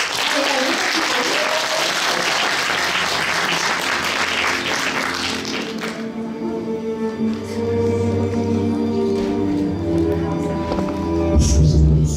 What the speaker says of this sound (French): Donc je vais vous demander de faire un tour en applaudissements.